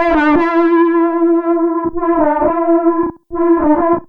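A sustained Serum synth lead plays a few held notes with a shimmering, slightly wavering chorus texture and gritty edge, loud and alone.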